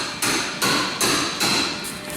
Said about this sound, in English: get these shocks off, which are going to involve a heavy hammer and a pickle fork more than likely